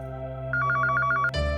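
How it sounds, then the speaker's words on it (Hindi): A telephone ringing indoors, a rapid trilling electronic ring lasting under a second over steady background tones, followed by a sudden low thump. "बदमिया देख फोन उठाओ, घंटी बजत बा।"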